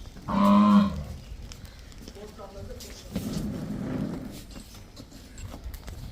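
A buffalo gives a short, deep moo near the start, then quieter farm sounds follow with people talking softly in the background.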